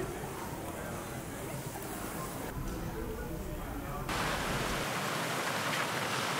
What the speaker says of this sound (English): we clearly did not beat the rain, and it is dumping too